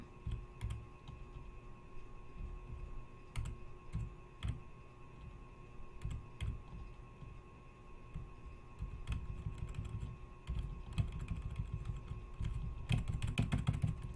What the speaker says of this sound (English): You'll just listen to the clickety-clack of my keyboard.